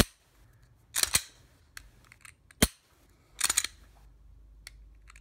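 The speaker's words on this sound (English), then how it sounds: "It was grinding, and you can hear it grind there a little bit." During a USPSA match, a pistol trigger grinds and binds with a few dry scraping clicks before one sharp, close shot breaks, followed by more gritty mechanical clicking, with no talking.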